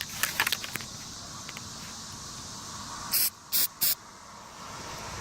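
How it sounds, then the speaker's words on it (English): Three short hissing bursts of aerosol sealant sprayed onto a roof outdoors, evenly spaced and fairly close, following some light tapping and handling noises over steady background ambience. "Here's one that can use a little spray."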